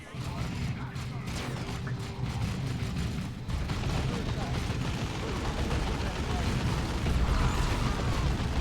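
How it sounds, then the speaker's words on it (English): Plasma cannon fire and frag grenade blasts from the Dawn of War 2 video game form a dense, continuous rumble of shots and explosions under the game's battle noise. "the plasma cannon made the frag grenade kind of irrelevant"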